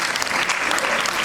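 Audience applause filling a room at a talk on personal branding, a dense, steady clapping that holds throughout with no voice over it.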